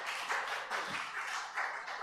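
Clapping rises in a Yarra City Council meeting chamber, a moderate patter of several people's hands that comes in uneven waves rather than a full ovation.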